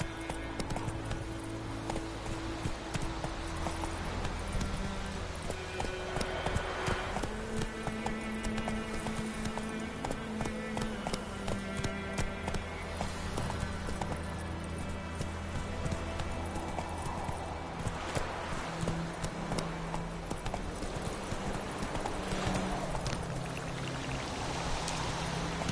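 Hooves of the horse Roach clip-clop steadily throughout a video game ride, a continuous rhythmic trot layered over game music and ambient sound.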